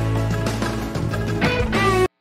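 Guitar string bend from a passage, a sustained note sliding upward in pitch amid other plucked notes, loud and close, ending abruptly.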